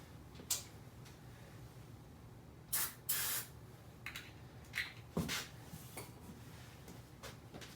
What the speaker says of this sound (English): I'm going to get some starter fluid and see if it'll fire up on that.